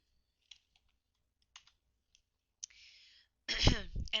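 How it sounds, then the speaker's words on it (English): TI-84 graphing calculator buttons pressed, a few faint, isolated plastic clicks spaced out over quiet, followed by a voice talking. "So I'm going to click on the Stat button"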